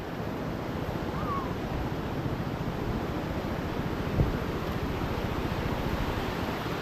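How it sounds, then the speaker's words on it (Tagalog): Strong, fast-flowing water rushes steadily and loudly at close range in a flood-prone area, with a dense broadband roar that holds constant throughout and carries a faint wind buffet on the microphone. "Malakas yung tubig ngayon."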